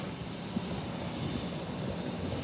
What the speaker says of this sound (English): So the ATR is now on the runway. Another short takeoff.